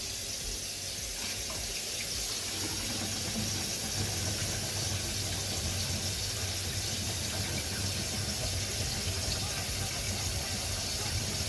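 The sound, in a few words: running water from kitchen faucet testing for leaks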